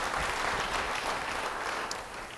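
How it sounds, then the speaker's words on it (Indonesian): A church congregation breaks into applause during a sermon, a continuous, fairly faint wash of many hands clapping at once, heard from some distance without speech. "Beri tepuk tangan bagi dia."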